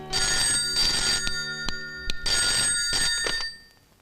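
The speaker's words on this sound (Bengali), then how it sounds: "রিং হচ্ছে।" Telephone bell ringing in a comedy scene from the film Deva, two loud bursts of trilling rings with a short gap between them, fading out at the end with no voices.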